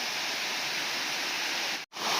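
A waterfall at a fishing spot pours in a steady, loud, dense rush of broadband water noise, close by and continuous with no voices over it, broken only by a split-second dropout near the end.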